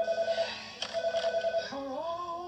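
A telephone rings before a prank call, giving a steady electronic tone that repeats in short pulses and then shifts pitch, with no voices.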